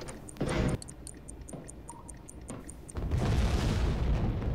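Torpedo explosions against a ship in the submarine game Silent Hunter 3, low muffled booms with a rumbling roar swelling toward the end over steady underwater ambience and faint regular pings.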